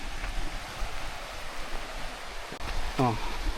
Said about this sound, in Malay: Bunyi laut je.